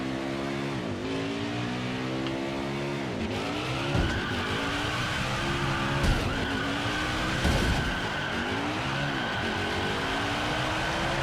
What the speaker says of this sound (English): as we come to wrap up this burnout